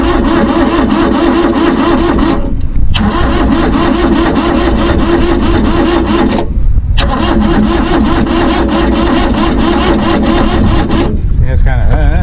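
A small Kubota diesel engine cranks loudly and continuously with a faulty starter, the grinding drone breaking off in brief pauses before resuming close to the microphone.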